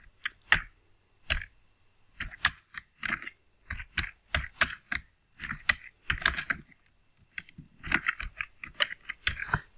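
Someone types text on a computer keyboard, an uneven run of close, clicky keystrokes coming in quick bursts with short pauses between them and no talking.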